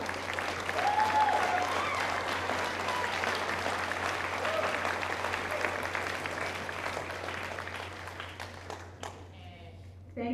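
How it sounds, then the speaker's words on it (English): A seated crowd at a senior awards ceremony applauds steadily for about nine seconds, a broad even patter in a large hall with a low background hum, before the clapping thins and stops. "let's clap for her"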